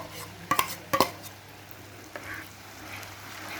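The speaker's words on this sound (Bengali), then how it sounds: "এবার পালং শাকের পেস্টটা দিয়ে কিন্তু ভালোভাবে এবার মশলাটাকে মাখাতে হবে, নাড়তে থাকতে হবে যেন নিচের দিকে লেগে না যায়" Spinach paste being stirred into a cooked spice masala in a pan, with two quick metallic spatula knocks near the start, then a soft, quiet sizzle and occasional scraping, close by with no voices.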